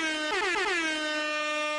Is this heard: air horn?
yes